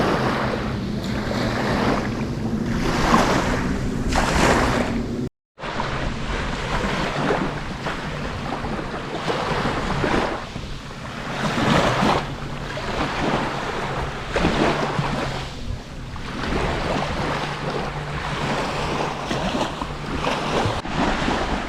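Waves wash steadily onto Buhat Beach on Koh Samui, Thailand, a continuous rolling surf roar mixed with gusty wind buffeting the microphone, with no voices.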